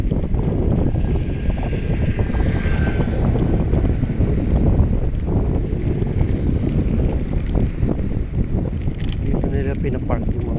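Strong coastal wind in the Puro area of Legazpi City, Albay, Philippines, roaring steadily into the microphone as a loud, buffeting rumble that never lets up, with faint water movement beneath it.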